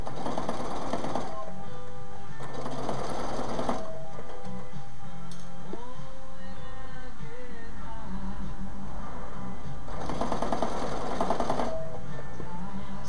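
A sewing machine stitches fabric for a sleeve ironing board cover, its motor buzzing in steady bursts that start and stop several times, with slower passages between as the seam is guided around curves; no talking.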